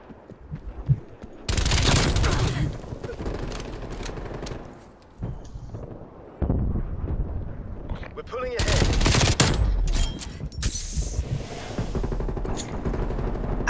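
Gunfire in the Call of Duty Black Ops Cold War video game comes in loud automatic bursts, with one long stretch and a later heavy volley, while players chatter in between.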